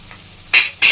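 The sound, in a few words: tomato, onion and capsicum frying in a pan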